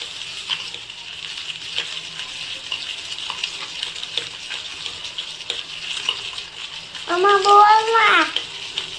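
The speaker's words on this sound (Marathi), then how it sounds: "चला अशीच मी ही सगळी कॉफी हलवून घेते" Coffee being whipped by hand gives a steady, close, continuous whisking and scraping texture throughout, with a voice speaking briefly near the end.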